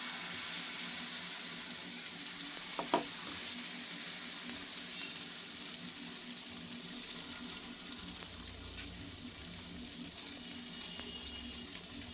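A steady, crackling sizzle of white cooking oil frying in a wok, constant and close, with a brief clink partway through and no voices.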